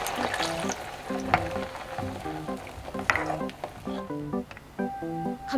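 Water, about 500 ml, poured into a hot pan seasoned with chili powder and pepper for egg curry, hissing and sizzling steadily throughout, fairly close, with a light background melody running underneath.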